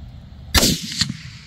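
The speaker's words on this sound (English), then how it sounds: "Good shot, Jake." A single loud .308 rifle shot fired while groundhog hunting outdoors, a sharp close crack at about half a second with a short rolling echo trailing after, over quiet field background.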